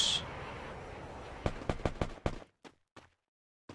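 A rapid burst of sharp gunshots in the video game Garena Free Fire, about six in quick succession, followed by a few scattered single shots that fade out.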